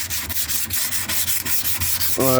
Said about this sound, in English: Sanding it down with 40 grit.